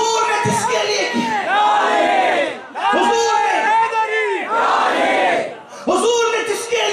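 A crowd loudly chants religious slogans in unison, Nara-e-Takbir and Nara-e-Risalat, in repeated bursts with brief pauses between them, filling the space at full volume.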